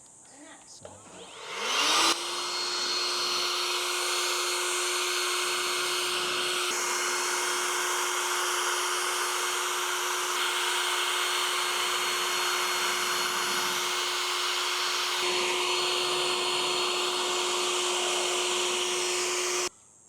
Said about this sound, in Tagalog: Gamitin natin ating big boy na wireless blower.